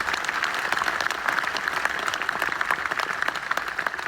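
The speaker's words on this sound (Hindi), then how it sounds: "पाकिस्तानियों के लिए तालियां।" Steady, dense applause from a large crowd at a political rally, sustained at an even level throughout with no break and no talk over it.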